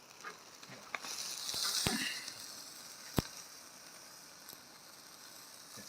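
A ribeye steak sizzles and fries on a hot surface, a steady soft hiss with occasional sharp pops and crackles, close and fairly quiet with no talking.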